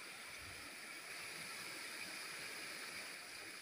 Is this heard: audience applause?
no